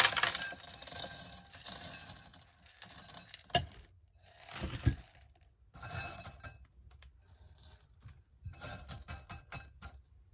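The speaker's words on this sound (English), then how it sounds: "I think I'm going to do some marble chips. Let's pour a little bit of those in there." Marble chips clatter and clink into a glass pot in several bursts, with brief pauses between pours.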